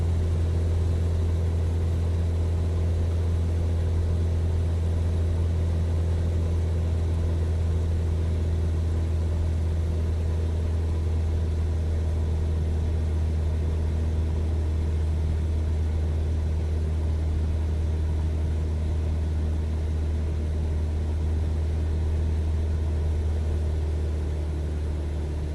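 In Microsoft Flight Simulator, a propeller plane's engine cruises at about 2200 RPM, holding a steady, loud droning hum for the whole stretch with no talk over it.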